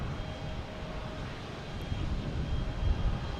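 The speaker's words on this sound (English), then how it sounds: "We have this Alaskan Airlines here. It's going to be heading to Seattle." An Alaska Airlines jet at Boston Logan bound for Seattle rumbles at a distance, a soft, low, continuous engine drone that rises a little near the end, with no voices over it.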